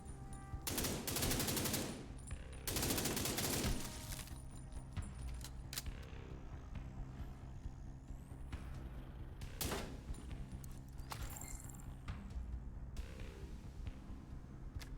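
Video game gunfire from The Division 2 crackles in bursts of rapid automatic fire, loudest early on, followed by scattered shots and softer game ambience.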